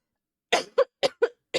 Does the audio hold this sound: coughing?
yes